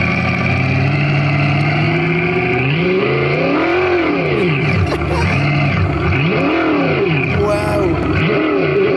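A Tesla fitted with an engine sound simulation system at the SEMA 2023 show, emitting a loud, continuous synthetic engine tone with sweeping rising and falling revs, while people talk over it.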